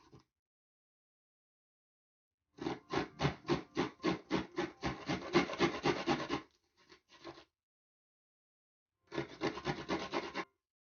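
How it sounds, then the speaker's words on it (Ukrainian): Garlic rubbed on a fine kitchen grater, a quick run of rhythmic scraping strokes, then a short pause, a couple of faint scrapes and a second brief burst of grating, close and clear with no talk. "Часничок натираємо на дрібненьку терку."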